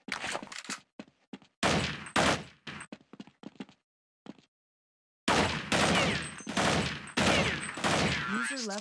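Gunfire in Counter-Strike 1.6 during a 1v1 match comes in loud, close bursts of rapid shots, with short gaps and a silent pause between volleys.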